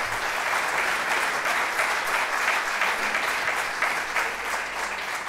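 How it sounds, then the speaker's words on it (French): Steady, even applause fills a conference hall during a round-table session, a dense wash of many hands clapping at a moderate distance without pause. "la salle a fortement applaudi vos propos"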